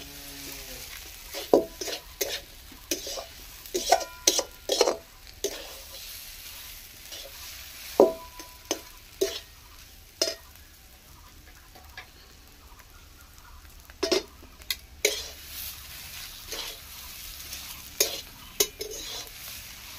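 Potato filling for aloo chop stirred and fried dry in a pan, irregular spoon knocks and scrapes against the pan over a quiet sizzle, some strokes in quick clusters.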